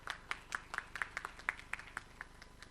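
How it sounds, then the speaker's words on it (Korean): Sparse, quiet clapping at an indoor award ceremony for a nutrition teachers' presentation contest, a few distinct claps in a loose rhythm, faint and fairly distant. "다시 한번 큰 박수 부탁드리겠습니다"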